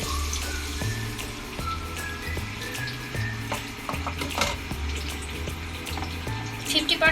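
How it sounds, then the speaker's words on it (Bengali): Water poured into a hot pan of spiced, frying potatoes meant for boiling with fish, sizzling and bubbling steadily up close over a low, rhythmic background throughout. "এখন আমি আলুগুলো সিদ্ধ হওয়ার জন্য দিয়ে দিচ্ছি পানি।"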